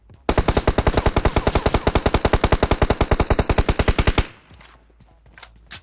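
Sustained automatic gunfire in PUBG Mobile, a loud, rapid, evenly spaced burst of about forty shots lasting roughly four seconds, then cutting off into quiet background noise.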